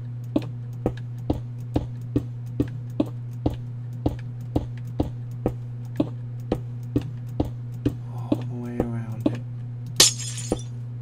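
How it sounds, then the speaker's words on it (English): Glass blocks are placed one after another in Minecraft, making sharp clicking taps in an even, steady rhythm over a constant low hum, with a brief burst of chiming near the end. "I'm going to start to fill this in with more glass everywhere."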